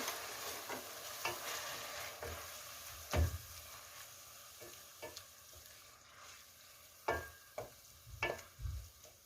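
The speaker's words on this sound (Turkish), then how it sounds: "haşladığım lahanamı ekliyorum" Boiled cabbage added to a cooking pot of cabbage soup with tomato paste, heard as scattered soft thuds, scraping stirs and light sizzling at a low level, with a few sharper knocks of a utensil.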